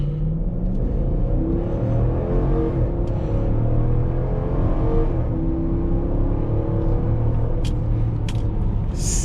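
A 2015 Jeep Grand Cherokee Overland in sport mode launches from a roll, its engine rumbling and rising in a steady, loud pull with continuous road and wind noise, heard from inside the cabin.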